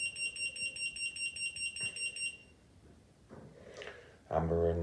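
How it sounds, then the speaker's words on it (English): Pedestrian crossing buzzer on a microcontroller traffic light model, a rapid pulsing electronic beep repeating for about two seconds, then quiet clicks before a louder tone at the end. "then you will see the green man come on and the buzzer, so it's now safe to cross"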